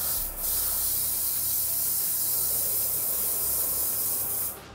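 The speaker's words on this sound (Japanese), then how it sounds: "全体にオイルスプレーを振ります。" Hair oil spray is misted over a styled half-up hairdo in a salon, a close, loud, steady hiss lasting several seconds, briefly interrupted near the start and cut off at the end.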